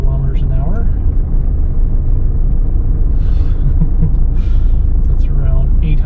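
A car engine lugs along in fifth gear at about 800 RPM and 35 km/h, a loud, low, steady rumble throughout, with a person talking over it.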